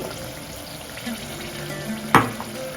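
Carrots, beans and potatoes sizzle steadily in hot oil for a vegetable kurma, with a soft stirring scrape and one sharper clank of a utensil against the pan near the end; no talking.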